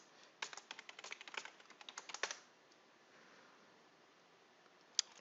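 Rapid typing of a password on a computer keyboard, a quick irregular run of soft clicking keystrokes lasting about two seconds, then quiet, with one last isolated keypress near the end.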